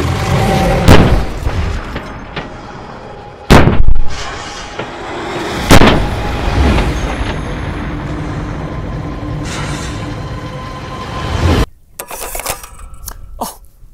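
Shots from a GM-6 Lynx .50 caliber bullpup rifle, a few loud, sharp reports spaced seconds apart, each with a long rolling echo, followed by a burst of clattering handling noise.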